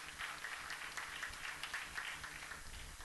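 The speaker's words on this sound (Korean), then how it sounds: "박수로 하자." A church congregation claps together, a faint and distant but continuous burst of applause with a slightly pulsing rhythm that carries on for several seconds.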